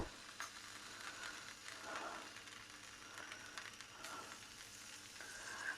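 Pancake batter hitting a hot frying pan, giving a soft, steady sizzle that hisses on quietly without pause.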